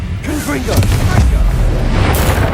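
A magical fire spell in the game Hogwarts Legacy bursts with a deep, loud, rumbling boom that rolls on for a couple of seconds, with a voice speaking at the start.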